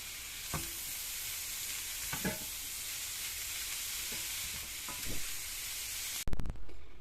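Drained fish heads go into a cooked spiced masala with green chillies, giving a steady bright sizzle and a few spoon scrapes as they are mixed in, ending in a louder clatter, no voices.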